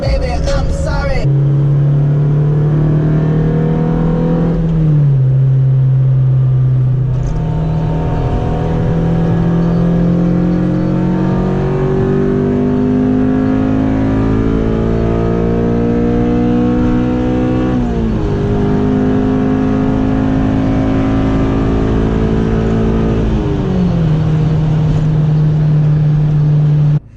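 A tuned Honda Civic Si engine pulls hard while driving, its loud revs climbing and dropping through several gear changes across a long, continuous run with no voices.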